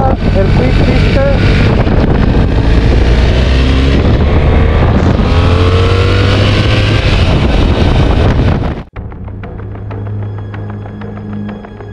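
A BMW R 1300 GS motorcycle accelerates on a highway with a loud, steady roar of engine and wind, rising tones climbing through the run before cutting abruptly to a quieter idle-like hum near the end.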